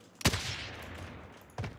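Gunfire in the video game Call of Duty: Warzone: two loud, sharp shots or bursts about a second and a half apart, each with a ringing tail over a steady low background rumble.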